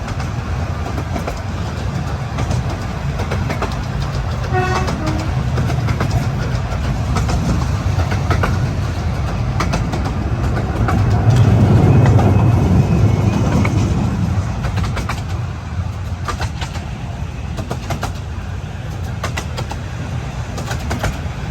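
A Romney Hythe & Dymchurch Railway miniature train runs over two level crossings in quick succession during a gala weekend, its steady rolling rumble swelling midway as it passes close, with no talk.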